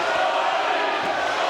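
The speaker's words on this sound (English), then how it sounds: "Crowd starts chanting Shawnee's name again." A boxing crowd in an arena chants a fighter's name as one dense, sustained roar of many voices, loud and continuous.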